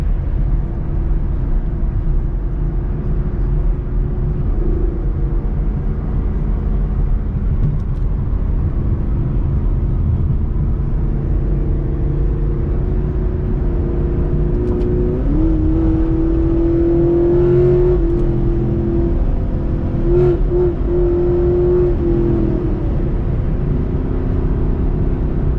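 Dodge Challenger engine droning steadily and loudly, rising into a revving whine near the middle as it accelerates, alone with no voices.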